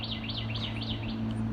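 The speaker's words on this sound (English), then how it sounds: "Birds are out." Birds chirp outdoors on a cold, sunny April afternoon in North Georgia, a repeating series of rising and falling tweets at moderate distance over a steady low hum, with no talking.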